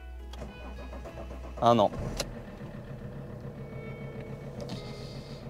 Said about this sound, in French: ça démarre pas vraiment comme il faudrait